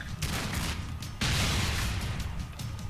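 Gunfire in the Expendabros video game: a dense, loud stretch of rapid shots and crashing bursts with a sharp jump in intensity partway through, running continuously.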